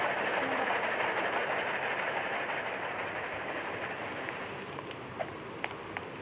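A train in the video game Dead Rails rumbles along continuously with a broad rushing roar, and a few light clicks and ticks surface near the end.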